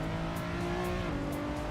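A car engine holding a steady revving drone in a racing video game, heard from inside the car, continuous and fairly faint with no talking.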